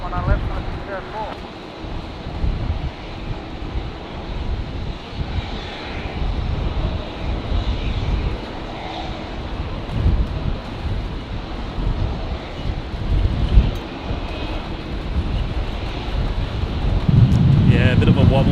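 A Jetstar airliner landing in gusty wind at Brisbane Airport gives a steady, distant jet engine roar mixed with wind buffeting on the microphone, while a person talks throughout.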